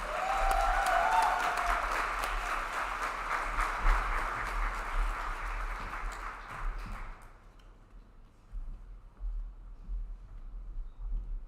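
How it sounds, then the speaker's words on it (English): Audience applause at a Disability Mentoring Day kickoff reception, a broad wash of clapping that swells for about seven seconds and then cuts off, leaving quiet room tone with faint movement. "How about a big round of applause?"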